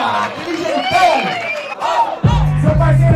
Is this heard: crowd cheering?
yes